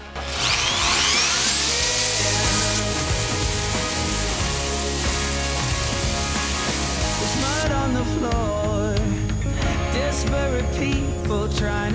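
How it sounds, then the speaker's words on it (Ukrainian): A Pro Craft impact drill whines loudly and continuously, its pitch climbing as it spins up, with gritty scraping of an abrasive sanding attachment grinding against a surface. "Також без проблем працює з абразивом, шліфує, дриль не відчуває того навантаження взагалі"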